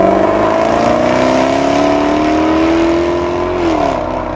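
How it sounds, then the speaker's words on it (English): A 5-liter supercharged V8 in a Need for Speed racing game revs steadily, engine note climbing slowly then dipping near the end, loud and close with no talk over it. "powered by a 5-liter supercharged V8 engine producing 550 horsepower and 502 pound-feet of torque"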